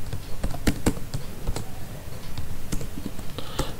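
Close, brisk typing on a computer keyboard while code is written, with irregular clusters of crisp key clicks and short pauses, and no talking.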